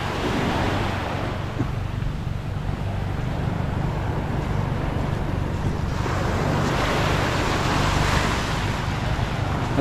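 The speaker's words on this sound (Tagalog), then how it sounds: "At least dito maliit-liit ang alon." Sea waves surge and wash steadily under strong gusting wind during a typhoon, with low rumbling surf and constant broadband wind noise near the shore, no voices.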